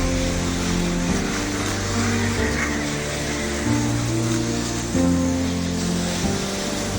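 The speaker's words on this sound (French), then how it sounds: "le son de la luge, ce sont deux sons qui ont des longueurs différentes et qui se répètent" Sled sliding sound from a video game luge descent: a continuous, loud synthetic drone of layered tones that shifts pitch in steps every second or so, looping two repeating parts, with no voices.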